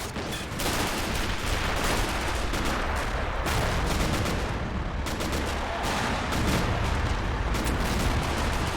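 Incoming gunfire pounds an Elephant tank destroyer with 200 millimeter armor in a World War II tank video game, a dense continuous barrage of shots and impacts, loud and close throughout.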